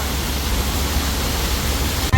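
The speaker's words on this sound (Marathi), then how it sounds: "आणि इकडे बाजूलाच आम्ही जाता जाता आम्हाला धबधबा लागलेला आहे, वॉटरफॉल बोलते पब्लिक" Roadside waterfall next to the NH48 highway, heard as continuous broadband rushing water, steady and fairly loud throughout, ending with a brief thump.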